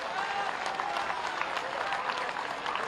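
A crowd at a rally in Gorakhpur, held for the foundation-stone laying of development projects, breaks into thick, continuous applause. The clapping stays even and loud throughout, with faint voices mixed into the roar.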